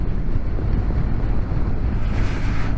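Steady, roaring wind buffets a motorcycle helmet on a BMW GS: a constant, loud low rumble with no speech.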